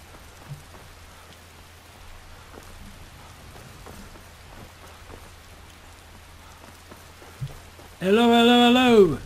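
Steady light rain patters throughout in the video game Skyrim, soft and even, with a few faint clicks and a brief louder burst at the very end.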